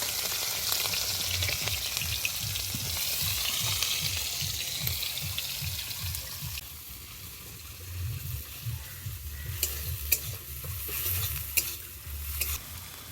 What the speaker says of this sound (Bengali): পেঁয়াজগুলো এবার দিয়ে দিলাম।